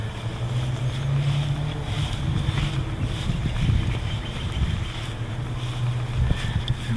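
A Snapper Big 6 lawn mower, model P216012, with a small engine idling and running steadily outdoors with a low, constant hum and some wind noise, no talking.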